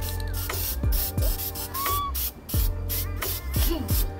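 Short hissing bursts of an aerosol spray can sound repeatedly at an irregular rhythm over a steady mechanical background hum, close and fairly loud, with faint clicks between bursts.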